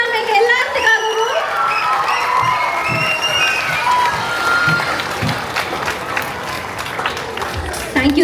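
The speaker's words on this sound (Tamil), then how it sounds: "நீங்களே எல்லாரும் நல்ல கைத்தட்டல் கொடுத்துடலாமா எங்க எல்லாத்துக்காகவும்?" At a dance company's mega dance night, the audience breaks into loud, sustained clapping and cheering, with children's shouts and crowd chatter mixed through the applause.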